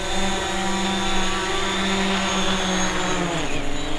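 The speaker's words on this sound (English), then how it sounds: "And the motor shut off." DJI Mavic Pro drone hovering close by with a loud steady whine of its propeller motors, the pitch sagging and shifting near the end as it lands and powers down.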